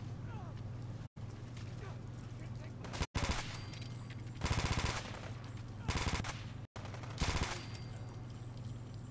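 Gunfire rattles through a Fallout 4 fight in bursts: three rapid automatic volleys separated by brief pauses, loud and close over a steady low hum, with short dropouts between sections.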